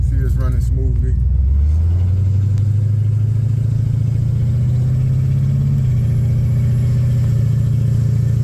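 A 1970 Chevy El Camino engine idles smoothly with a close, steady low rumble that holds without faltering. A voice is heard briefly at the start.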